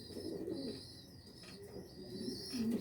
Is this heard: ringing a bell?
no